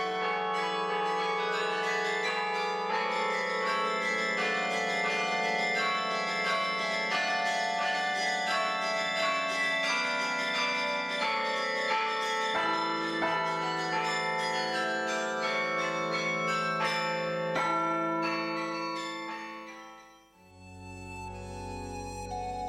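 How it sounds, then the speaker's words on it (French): The 61-bell carillon of Hondschoote rings a sustained melodic peal of overlapping bell tones with rich lingering resonance, continuous for most of the span before fading to a decaying hum. "Avec ses 61 cloches, ce carillon fait partie des plus importants carillons de France."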